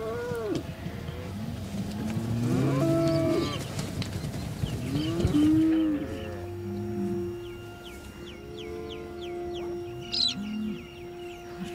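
Cattle moo repeatedly, some near and some farther off, on a drought-stressed Australian dairy farm, with birds chirping through the background and clearly in the final seconds.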